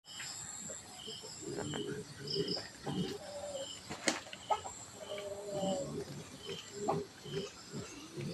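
Evening outdoor ambience in the Philippines with chickens roosting in a mango tree, clucking and rustling, scattered bird calls and a steady insect chorus, with occasional faint voices in the background.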